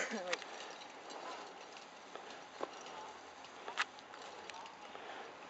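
Breton draft horses walk at an easy pace early in the working season, their hooves giving faint, scattered clip-clops against a steady outdoor hiss while people talk quietly nearby.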